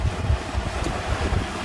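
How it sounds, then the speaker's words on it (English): Wind buffets the microphone on a motor cruiser motoring straight into a headwind, a close, gusty rumble with water rushing beneath, and no talk. "Seems windier than it really is because we're motoring dead into it at the moment."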